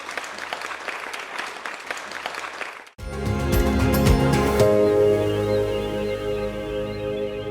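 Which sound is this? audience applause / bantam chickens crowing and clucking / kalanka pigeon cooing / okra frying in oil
audience applause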